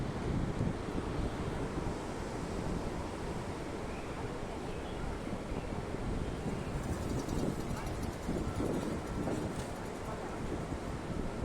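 Water rushing from the fifteen opened gates of Mettur Dam on the Kaveri in Tamil Nadu, a steady loud roar with wind buffeting the microphone throughout.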